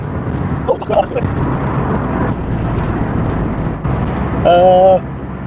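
A car engine labouring up a hill in fifth gear, a steady low drone with road and wind rumble throughout, close and loud, with a brief tonal whine near the end.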